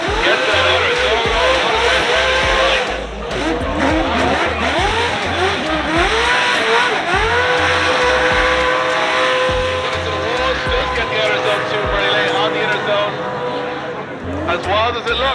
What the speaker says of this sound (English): Low start drift coming in with a big entry here.